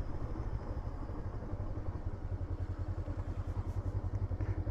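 Kove 500 motorcycle engine chugging slowly in second gear with no throttle, a low rhythmic pulsing thump that is fairly quiet and steady, heard alone without talk.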